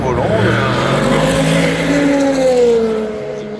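A Peugeot 208 race car drives on a circuit near a chicane, its engine a loud sustained drone that rises in pitch and then eases off, heard close with a commentator talking over it.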